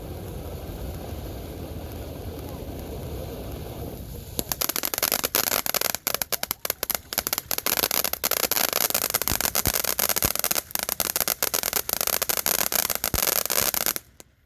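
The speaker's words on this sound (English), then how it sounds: "that was Bumblebee by Suns Fireworks" A Bumblebee firework by Suns Fireworks gives a low fizzing hiss, then breaks into a loud, dense crackle of rapid pops and sputters that runs for about ten seconds before stopping abruptly.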